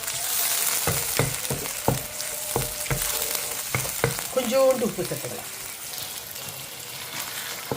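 Masala with tomato paste sizzles steadily in hot oil while a spatula clinks and scrapes the pan; a voice speaks briefly in Tamil over the cooking.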